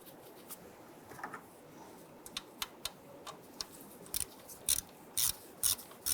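A ratchet tightens an intake bolt on a 1994-2004 Ford Mustang 3.8, its pawl clicking in quick, faint, close bursts with short pauses between strokes and no talk.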